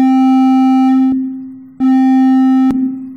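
A Web Audio API synthesizer oscillator plays a steady, loud, harmonically rich tone with sustain, held twice with a brief fading gap between the notes, with no talking.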